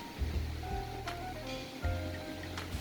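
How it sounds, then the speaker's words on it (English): Low, blustery wind rumbles through a garden with soft rustling and a few faint tonal sounds, gusting unevenly at a quiet level. "listen to the sound of wind"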